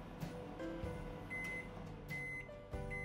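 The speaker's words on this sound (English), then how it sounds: "let's melt the butter in the microwave oven while we wait" A microwave oven hums steadily while melting butter at low power, a continuous mechanical drone with faint steady tones over it and a couple of soft knocks, moderately quiet and close.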